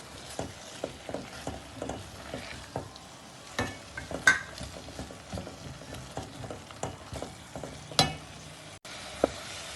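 Lamb brain frying in masala in a pan, broken up with a spoon: a soft, steady sizzle under repeated scraping and tapping spoon strokes, close and fairly quiet, with no talking.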